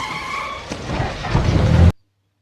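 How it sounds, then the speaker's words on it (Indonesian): A speeding car in a rainy film scene skids and strikes a woman: a broad rushing, rumbling noise builds steadily louder over about two seconds, then cuts off abruptly into silence. "si ibu tertabrak mobil yang melaju kencang"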